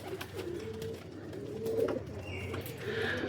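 Breeder pigeons coo softly and repeatedly in a loft, low throaty calls rising and falling over a steady background hum, with no voices present.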